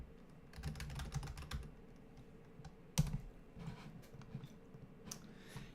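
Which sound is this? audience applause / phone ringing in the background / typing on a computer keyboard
typing on a computer keyboard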